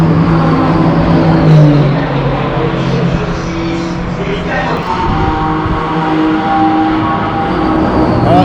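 Race circuit paddock at a GT4 event: a steady, loud wash of engine drone and crowd bustle with occasional car revs and passing vehicles, voices talking throughout.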